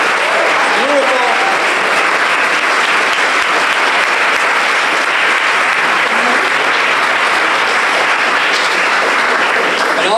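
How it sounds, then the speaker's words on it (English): Loud, sustained applause from a large crowd at a town hall meeting in Nantucket, dense clapping that fills the whole stretch without letting up, with voices faintly mixed in. "Let's give a huge round of applause for Chelsea Remick for the national anthem."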